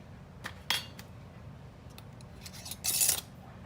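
A metal canning lid is lifted with a magnet lifter and set onto a jar of home-canned peaches, giving a few light metallic clicks and taps close by, ending in a brighter clatter, with no talking.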